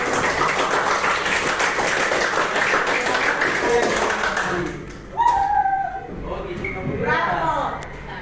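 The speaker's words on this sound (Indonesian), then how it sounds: "Boleh kita berikan tepuk tangan untuk kelompoknya lagi." Students in a classroom clap for a group's poster, a loud, dense burst of applause lasting about five seconds before it cuts off, then people talking with a few stray claps.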